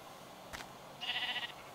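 A single short sheep bleat from the Minecraft video game, fairly faint and alone, preceded by a brief soft tap.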